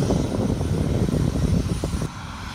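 Steady rotor drone of a helicopter with a rhythmic low chop, near a prison during Hurricane Matthew in 2016, fairly loud and continuous, dropping off abruptly near the end.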